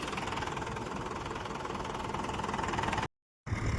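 A Mahindra tractor engine runs while ploughing a field, a loud, steady, close droning rumble with no pauses until a brief dropout just before the end.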